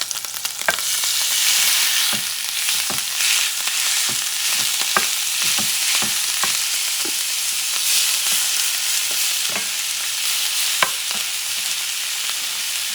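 Ground beef sizzles loudly and steadily in a hot pan while cooking for chorizo rice, with a continuous frying hiss and repeated sharp scrapes and taps of a utensil stirring the meat. No one speaks.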